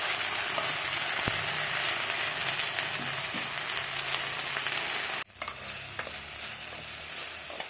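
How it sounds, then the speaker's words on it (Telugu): Leaves for pulihora fry in a pan with a loud, dense sizzle that cuts off abruptly near the end, followed by quieter crackling and a light utensil tap. "ఆకులన్నీ బాగా ఫ్రై అయ్యాయి కదండి"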